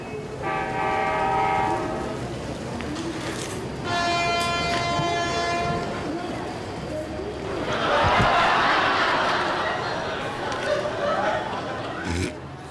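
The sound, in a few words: train at a railway station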